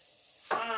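Food hits a hot pan for a Sunday dinner and starts to sizzle abruptly after a quiet moment, a steady close frying hiss filling the rest.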